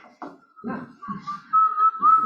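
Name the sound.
whistling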